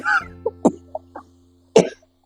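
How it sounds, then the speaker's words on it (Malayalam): Someone coughs in short harsh bursts, a few spaced hacks then a louder one, near and alone, as spice powder is added while cooking chapati. "അങ്ങോട്ട് മാറി നിന്നോ കാരണം ചുമക്കുന്നുണ്ട്"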